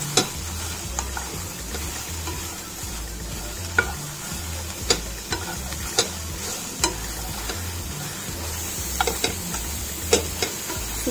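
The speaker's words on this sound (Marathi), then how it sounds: "2 ते 3 मिनिटं बिन तेलाचा आपण मोठ्या गॅसवरती चांगला त्याला पहिलं परतून घेतोय।" Chopped onion and garlic dry-roast without oil in a pan over a high flame, giving a low, rustling hiss under a regular series of crisp spatula clicks and scrapes.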